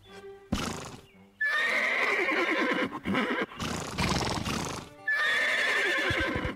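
Horses in a cartoon ranch scene give loud, shrill whinnies, two long neighs separated by snorts and rustling, with hooves clip-clopping close by.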